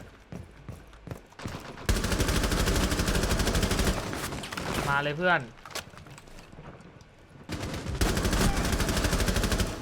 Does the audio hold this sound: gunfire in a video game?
yes